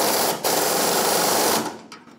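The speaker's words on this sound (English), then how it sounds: "Get my air gun." An air impact gun with a 15 mm socket drives bolts on the side fuel tank of a 1992-1996 Ford F-150, in two loud, buzzing bursts with a short break between them, then stopping.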